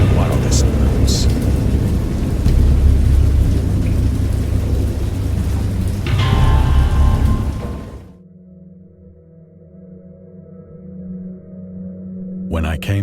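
A thunderstorm with heavy rain pouring steadily and deep rumbling thunder, loud and continuous, then abruptly cutting to near silence with only a faint low tone and a brief crackle at the end.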